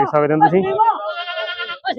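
A goat bleats loudly up close in a long wavering cry, followed by a brief second call.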